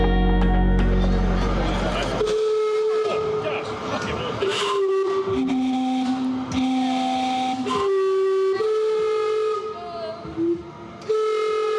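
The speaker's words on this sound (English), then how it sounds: "This is the world's first steam-powered clock, and every 15 minutes it whistles." Steam-powered clock in Vancouver sounding its whistles, a sequence of loud sustained tones shifting pitch like a short tune, with crowd chatter and street noise faintly underneath.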